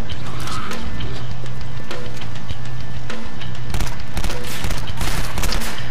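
Assault rifle gunfire in a first-person shooter video game, loud rapid bursts of shots with heavy booming impacts throughout, dense and continuous close up.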